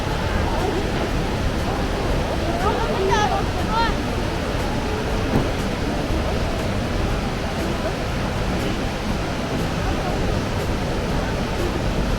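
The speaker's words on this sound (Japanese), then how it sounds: "水しぶきを上げて97メートルの高さを一気に流れる雄大な華厳の滝をご堪能ください。" Kegon Falls in Nikko, Tochigi, a waterfall dropping 97 m in a single plunge, roars as a steady, dense broadband rush that holds unbroken and fairly loud throughout.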